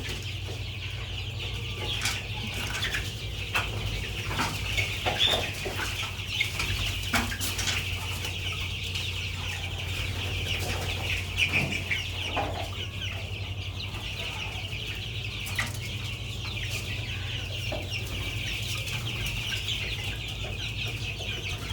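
Chickens in a poultry shed cluck continuously, with scattered sharper calls and occasional wing flapping over a steady low background hum.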